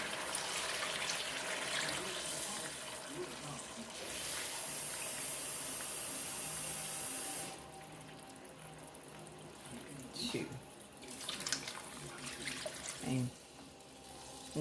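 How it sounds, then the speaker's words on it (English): Water from a tap gushes steadily into a pot for Mexican rice for a few seconds and then stops. Quieter clinks and handling noises follow. "you're going to add 2 cups of water"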